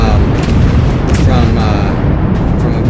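Battleship guns fire HE shells in World of Warships, producing a constant heavy rumble of booming cannon blasts, loud and continuous, with a few sharper bursts.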